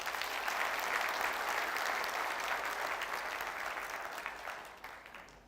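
Audience applause for a gentleman at a new academic session event, a steady wash of many hands clapping that holds for several seconds and then fades out toward the end.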